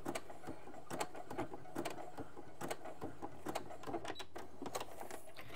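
A sewing machine runs close by, stitching two elastics together for a menstrual underwear project, with quick rhythmic needle bursts and clicks over a steady low mechanical hum.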